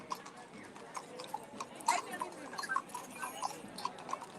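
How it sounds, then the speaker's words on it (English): Horses' hooves clip-clop along a road during a religious procession, a steady run of hard, ringing steps close by, with crowd murmur and distant noise underneath. "I don't think these horses really like being ridden along this road very much."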